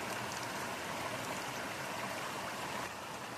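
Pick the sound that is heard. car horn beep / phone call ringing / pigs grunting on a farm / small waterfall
small waterfall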